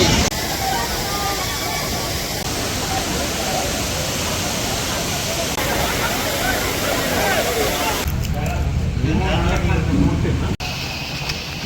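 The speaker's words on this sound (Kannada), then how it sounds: "ಫಾಲ್ಸ್ ಸೌಂಡ್ ಕೇಳ್ಬೋದು" Soormane Falls in the Malenadu hills of Chikmagalur during the monsoon: a steady, loud, broadband roar of rushing water that fills the whole clip and thins slightly near the end.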